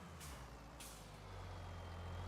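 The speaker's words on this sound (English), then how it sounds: "I don't think I'll tire of the noise that truck's making for quite a while." Two sharp hissing bursts of a truck air brake release over a steady low engine rumble in the video game Farming Simulator 25.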